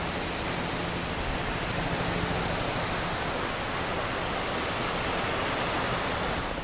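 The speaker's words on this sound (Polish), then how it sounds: "O, popatrzcie jak normalnie płynie woda" Victoria Falls pours with a low flow of water, producing a steady, loud, unbroken roar of falling water and spray that fills the whole stretch with no voices.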